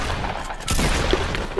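Pump shotgun fire in the Fortnite video game, a rapid cluster of sharp bursts and booms packed into a moment of loud, continuous gameplay noise.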